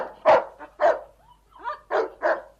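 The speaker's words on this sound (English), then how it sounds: "He barked his concern, and the sergeant looked ahead." Sled dog barking in the Yukon wilderness, five loud, close, sharp barks spaced unevenly over a couple of seconds, with a brief whine between them and no one talking.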